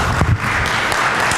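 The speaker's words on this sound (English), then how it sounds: "give my friend Nathan Long a round of applause" An audience at a talk on raising private money applauds, a dense, steady wash of clapping that stays loud throughout.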